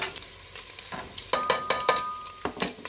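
A spoon stirs fresh garlic cloves into a pot of chili con carne with ground beef, making repeated scraping strokes over a steady sizzle, close and moderately loud, with no voices.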